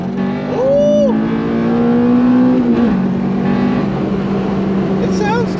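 An old Honda car engine drones and revs loudly and steadily, with voices talking briefly over it.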